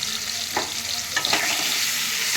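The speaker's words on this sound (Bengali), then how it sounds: "আর একটু টমেটো, শুকনো লঙ্কা, কাঁচা লঙ্কা, এগুলোকে আমি একটু ভেজে নেব" Tomato with dried and green chilies frying in oil for a rohu fish curry, a steady hiss of sizzling with a few stirring scrapes, close and fairly loud.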